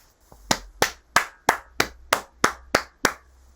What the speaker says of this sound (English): The Duke clapped.